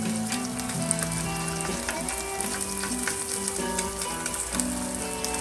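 Oil sizzles and crackles steadily in a pan while pieces of food fry, with clinks and scrapes of utensils and tonal kitchen hum running underneath at a moderate, close level.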